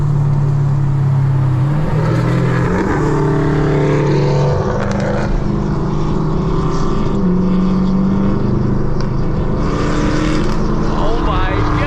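A loud Chevrolet Camaro SS rumbles on the road at night, its exhaust a deep, continuous drone heard from inside the car that swells and dips as the driver shifts and accelerates, with voices barely audible beneath it.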